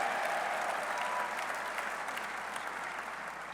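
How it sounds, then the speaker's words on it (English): Crowd applause at a West Virginia University football press conference introducing coach Rich Rodriguez, a steady dense wash of clapping filling the room and easing slightly toward the end. "give that a round of applause"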